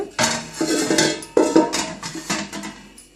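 A metal cooking pot or pan is set down on a stove while making sweet mango pickle, giving a cluster of clanking metal knocks and scrapes, close and fairly loud, with no voices.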